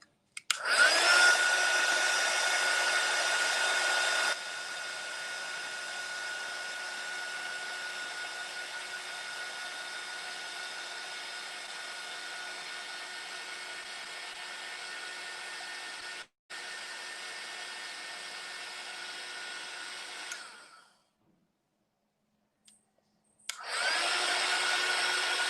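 Hair dryer running steadily to dry handmade crafts, a loud continuous whirring blow that drops a notch after a few seconds, cuts out briefly, stops for a few seconds near the end, then starts up again.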